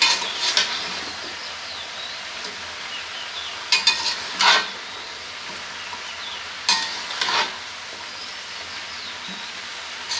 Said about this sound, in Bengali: খিচুড়ির সবজি রান্না করতেছে।